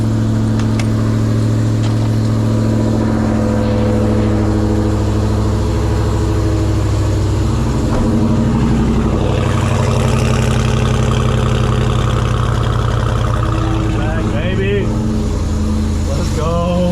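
A supercharged Dodge Hellcat with a new blower idles loud and rough, then revs hard for a burnout in a long unbroken roar, with people shouting and talking over it.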